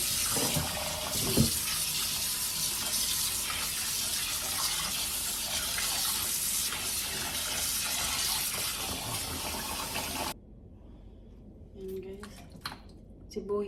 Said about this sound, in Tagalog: Lagyan tubig.